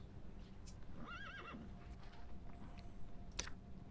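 A horse in the survival game Sheltered gives a clear whinny with a wavering, falling pitch, heard once over low steady game ambience, with a brief click and clatter following a couple of seconds later; nobody talks.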